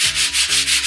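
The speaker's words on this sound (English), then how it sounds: "So take some sandpaper, not too rough, and just slightly sand over your canvas." Sandpaper lightly rubbed over a rough painting canvas, loud close scratchy strokes in a quick back-and-forth rhythm, about four passes, no voices.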